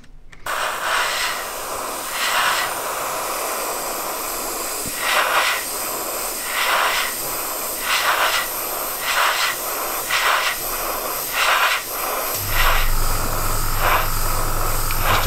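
An airbrush hisses in short repeated bursts, laying a light dusty coat of thinned paint onto a Wingnut Wings Junkers D.1 model kit, each spray lasting about a second with brief pauses between, close and steady, with no talk.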